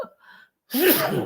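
A single sharp human sneeze bursts out after a brief quiet intake of breath, close and loud.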